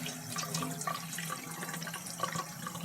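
Steady rush of warm tap water running into a basin, continuous and fairly close, with no voices.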